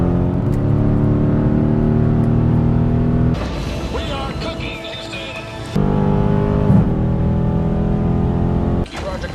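Chevrolet Corvette Z06 engine droning and revving in strong, steady bursts, broken by a noisy stretch in the middle before the engine tone returns, with voices talking at times.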